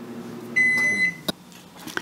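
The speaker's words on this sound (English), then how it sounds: "I am going to just run to the microwave. It's going in for 30 seconds." A microwave oven hums with a running whir, then gives a long, clear electronic beep followed by a clunk and a couple of small knocks, close and loud in a quiet kitchen.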